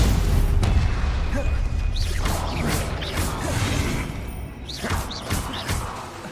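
Spells cast in the video game Hogwarts Legacy, including Expelliarmus, Protego and Stupefy: a loud run of whooshing swishes, magical bursts and booming impacts over a dense, rumbling game soundscape.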